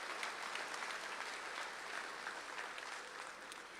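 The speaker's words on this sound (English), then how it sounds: "A round of applause, please, for American Legion Post 149 Honor Guard." A commencement ceremony audience applauds the American Legion Post 149 Honor Guard after it presents the national and state colors. The clapping is steady and sustained, heard from a distance in a large hall with no voices over it.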